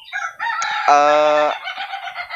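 A rooster crows loudly and close by, a long harmonic call, with clucking before and after it, among Brahma and Bangkok chickens.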